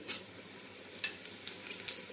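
Cumin seeds and cracked cardamom pop and crackle in hot oil for pulao, giving a soft continuous sizzle broken by a few sharp spatters, fairly faint and close.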